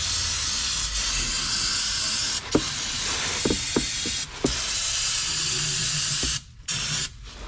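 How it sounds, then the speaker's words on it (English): Parts cleaner sprayed from an aerosol can onto a 2005 Mazda 3 transmission pan, a loud steady hiss lasting several seconds with brief clicks and pauses between bursts, close to the microphone. "Have no fear, spray cleaner's here."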